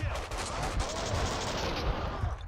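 Dense, loud gunfire from the video game Max Payne rattles without a break for the whole stretch, with layered rapid shots and no clear gaps.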